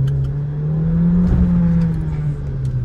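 A Skoda Octavia 1.8 TSI engine pulls steadily under acceleration, a loud, sustained droning tone that rises slightly in pitch and then eases, heard from close by.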